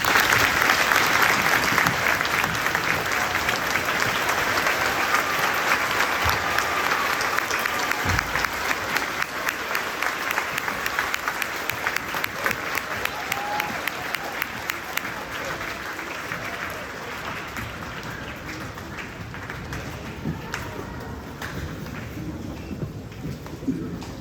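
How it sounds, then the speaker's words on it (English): Sustained applause from a school audience at a Veterans Day assembly honoring service members, a dense, steady roar of clapping that fills the room throughout and tapers slightly near the end. "Let's give them a round of applause."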